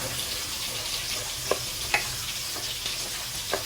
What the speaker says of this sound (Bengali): চিংড়ি মাছ দিয়ে আমি আরো কিছুক্ষণ কষিয়ে নিব